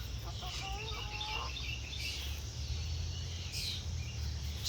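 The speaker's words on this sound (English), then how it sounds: "Oh my, you little greedy chickens." Backyard chickens cluck and whine hungrily for food, a few soft high calls and murmurs near the start and middle over a low steady background hum, fairly quiet overall.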